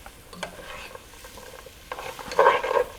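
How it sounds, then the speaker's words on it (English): Chopped vegetables, carrots among them, sauteing in a soup pot for potato kielbasa soup, with soft scraping stirs and a gentle sizzle that grows louder and busier near the end; no talking. "I'm going to be sauteing these until about 2 minutes or longer"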